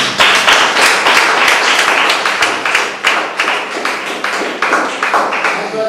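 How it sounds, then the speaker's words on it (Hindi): A seated audience at an Asclepius Wellness business presentation breaks into loud, sustained clapping, with dense overlapping hand claps continuing steadily throughout. "मैं चाहता हूं इसके लिए जबरदस्त तालियां होनी चाहिए।"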